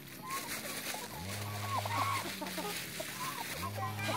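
Ducks and chickens arrive in a garden, clucking and calling in a busy cluster of close, overlapping bird sounds, while people talk in the background.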